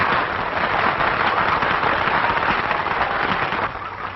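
Audience applause for a composer and the woman who inspired his song, a dense, steady wash of clapping heard close and loud throughout, easing slightly near the end.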